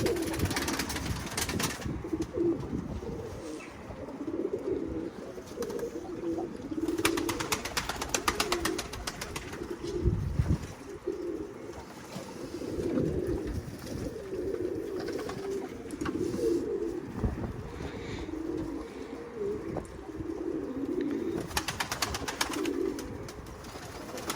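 Pigeons coo repeatedly close by as they settle in to bathe, soft throaty calls rising and falling in overlapping phrases against a light outdoor background.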